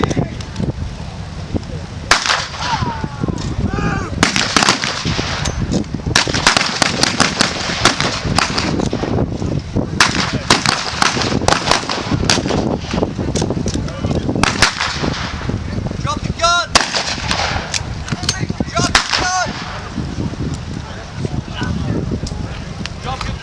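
Dense, continuous gunfire and sharp blank shots crack out at a WWII reenactment battle with a sniper in a tower, loud and rapid with many overlapping bangs near and far, with voices around them.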